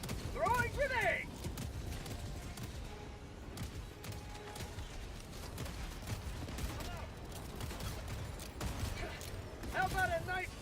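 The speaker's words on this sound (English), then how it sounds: "Throwing grenade." Distant grenade blasts and gunfire crackle through a Helldivers 2 battle, with sharp bursts scattered over a busy rumble, and voiced character lines rise briefly at the start and end.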